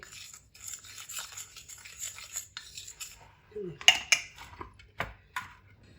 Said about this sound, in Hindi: 1/2 टीस्पून यहाँ पे हम हल्दी डाल देंगे। इनको दोनों को मिक्स कर देंगे।